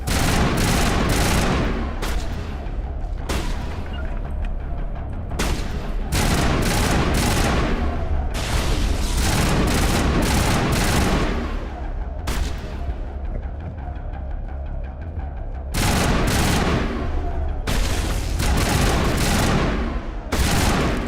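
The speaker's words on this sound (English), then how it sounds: "I'm going to change my assault rifle. It hits harder, faster." Mass Effect assault rifle gunfire rattles in loud, dense bursts of rapid automatic shots, broken by brief pauses, continuous and close throughout.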